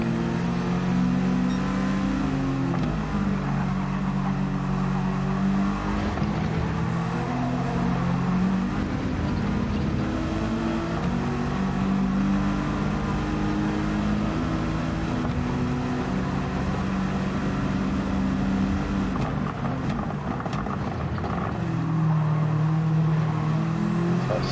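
Honda Civic TCR race car in a sim racing game at Sardegna, its engine droning loud and continuous, pitch rising and dropping through gear changes and corners for the whole stretch.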